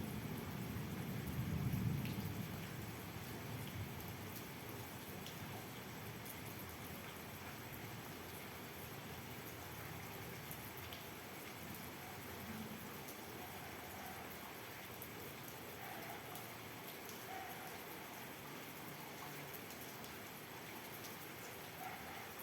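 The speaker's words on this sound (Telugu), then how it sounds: "ఉరుము చప్పుడు తర్వాత వినిపిస్తుంది" Heavy rain falls steadily through a storm, a dense even hiss throughout, with a low rumble of thunder swelling briefly near the start and then fading back under the downpour.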